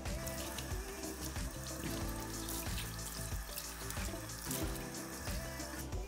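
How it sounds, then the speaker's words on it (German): Green celery and dill are washed under a running kitchen tap, a steady, continuous splash of water that stays even throughout with no talking. "Ich werde nun den grünen Sellerie und den Dill dann noch waschen."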